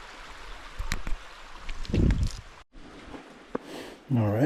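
Clear water flowing at a snowy waterfall trail, a soft steady rush under footsteps, wind buffeting and brief talk, fairly close but partly masked by handling noise.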